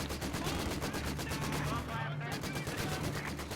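Vickers machine gun fire in the World War II strategy game Company of Heroes 2 rattles in a rapid, continuous stream of regular bursts, dense and loud throughout with other battle noise mixed in.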